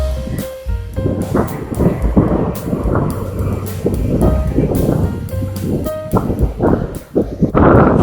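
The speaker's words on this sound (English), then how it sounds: "Gosh, that wind." Strong wind roars across the open ground at the Stonehenge monument, gusting and buffeting the microphone continuously with deep rumbling surges and no let-up for the whole stretch.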